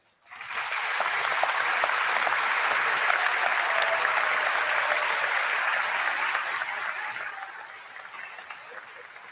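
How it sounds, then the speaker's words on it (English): At an undergraduate commencement ceremony, a large audience breaks into loud, sustained applause that swells quickly, holds steady for several seconds and then fades gradually. "Please join me in a warm welcome for Ms. Gwen Eiffel."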